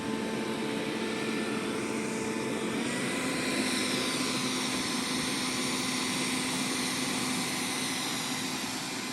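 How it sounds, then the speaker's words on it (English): ZOOZEE Z70 robot vacuum running with its suction boosted, a steady whining hum with a high motor whine on top, holding level and unbroken throughout with no voices. "you'll notice that it boosts the suction power as it's working"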